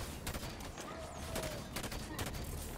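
Rapid gunfire in Halo 5: Guardians aimed at an enemy turret, a dense, continuous rattle of shots with bursts of impacts throughout, with no pauses.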